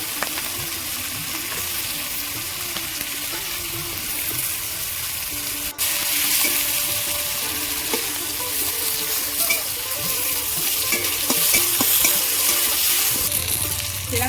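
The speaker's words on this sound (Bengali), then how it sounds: "ওই তেলের মধ্যে গোটা জিরে দেবো শুকনো লঙ্কা তেজপাতা পেঁয়াজ কুচি দেবো" Whole cumin, dried red chilli, bay leaf and chopped onion fry in oil left from frying fish heads and potatoes, a loud steady sizzle and crackle that swells slightly midway, close by and without speech.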